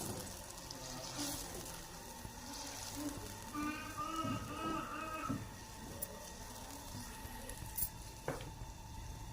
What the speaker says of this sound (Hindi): तो जो आलू हमने कद्दूकश करके रखे हुए थे ये हम डालेंगे इसमें